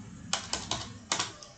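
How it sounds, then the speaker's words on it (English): Typing on a computer keyboard: four or five distinct key taps in an uneven rhythm, close and moderately quiet, with no talking. "I am typing"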